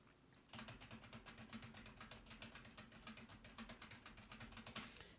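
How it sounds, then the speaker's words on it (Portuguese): Keys on a computer keyboard clatter in a fast, steady stream of soft clicks, close but quiet, with no talking over them. "Teclado."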